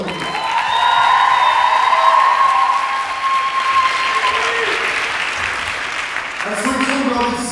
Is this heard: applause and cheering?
yes